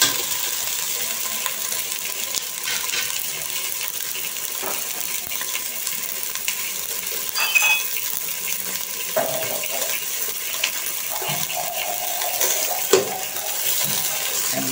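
Onion, tomato and smoked tuna sizzle in a pan as they are sautéed for pakbet, a steady soft frying hiss broken by occasional stirring scrapes and utensil clinks.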